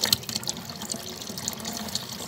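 Nutrient water for lettuce seedlings pours in a steady splashing trickle, close and continuous, with no voices.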